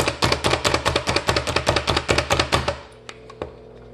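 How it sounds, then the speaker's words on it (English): Raw carrots are chopped with a food chopper in quick, even strikes, about sixteen crisp close chops in a steady rhythm, then the chopping stops, leaving a few lighter taps against a quiet background. "it'll be easier if I do a little pre-chopping first"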